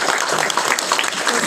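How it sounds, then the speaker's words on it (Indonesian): A church congregation clapping together, a dense, steady burst of applause that fills the whole short moment at close range. "Tepuk tangan buat Tuhan."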